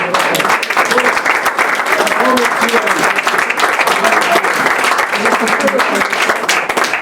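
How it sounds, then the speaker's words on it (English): Sustained applause from a crowd at an art competition, dense and steady clapping throughout, fairly loud with a few voices mixed in. "je vous demande de les applaudir"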